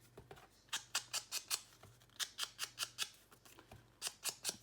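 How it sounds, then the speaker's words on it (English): Scissors trimming a paper circle for a junk journal tag give quick, close, crisp snips in rhythmic runs of several cuts each, separated by short pauses, fairly quiet overall. "This one I got to even up where I cut out a circle."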